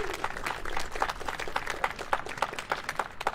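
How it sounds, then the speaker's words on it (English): Audience clapping for a student at a high school orchestra end-of-year concert, a dense, steady patter of many hands with no talking over it. "yes, we can clap for that"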